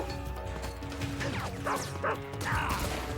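Dog barks and yips in Metal Gear Solid 3, several sharp barks in quick succession over constant game music and ambient noise, with no talking.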